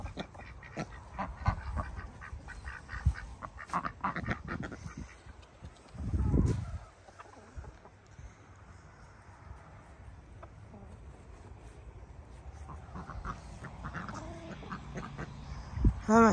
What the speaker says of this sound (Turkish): Ördekler geziyor.